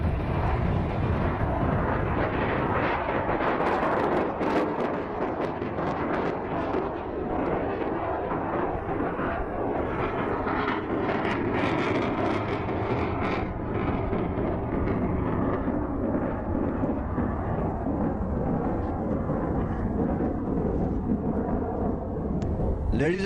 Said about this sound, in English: JF-17 is now advancing towards the venue with its roaring thunder.